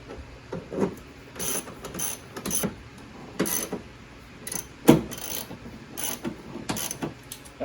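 Ratchet wrench tightening a 13 mm nut on the battery terminal of a 2016 Chevrolet Suburban LT, giving close, quick bursts of clicking ratchet strokes in several short runs with small metallic knocks between them and no talking.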